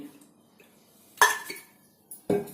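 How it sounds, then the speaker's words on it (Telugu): Metal pot set down on a lit kitchen stove in a home cooking setting: a few sharp clanks and clinks, close and fairly loud, separated by quiet gaps, with faint sounds between them. "ఇప్పుడు నేను స్టవ్ వెలిగించి ఒక గిన్నె పెట్టాను దాంట్లో ఒక టేబుల్ స్పూన్ నూనె వేసుకోండి"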